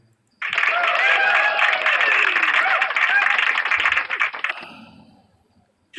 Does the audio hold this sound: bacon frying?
no